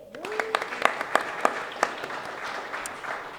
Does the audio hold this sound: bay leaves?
no